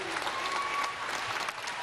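Applause from a jazz concert audience for a singer, a steady crowd clapping over a short span, moderately distant and even in level.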